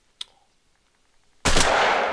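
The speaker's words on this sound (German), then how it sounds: "ich feuer einfach mal hier gegen die Wand" A shotgun in the hunting game theHunter: Call of the Wild fires a single loud, close blast that cuts sharply out of near silence, with a faint click shortly before it.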